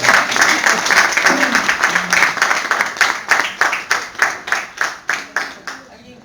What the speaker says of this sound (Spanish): Sí, fuertes aplausos, que viva la justicia.